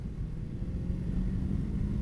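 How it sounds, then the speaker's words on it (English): A Honda CB500 motorcycle from the 1990s revs steadily, its engine a dense continuous rumble held at a constant loudness with no talk. "It just keeps revving. The engine is an absolute little gem."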